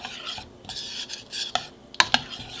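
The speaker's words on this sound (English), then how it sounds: "And then we're gonna give this a quick stir." A spoon stirs keto German chocolate mug cake batter with pecans in a mug, giving soft scraping swirls and a few sharp clinks against the side, close and fairly quiet.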